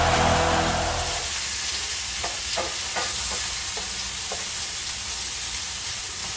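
Stirring grits in a cast iron pot on a hot stove: a soft steady sizzle and steam hiss runs throughout, with several distinct scraping strokes of the spoon against the iron at irregular intervals, close and moderately loud, with no talking.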